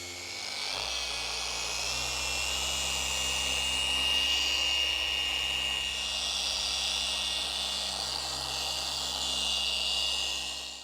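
A machine polisher runs steadily on the paint of a violet metallic Porsche 911 992 GTS, giving a continuous high-pitched whine with a low hum beneath, close and constant throughout.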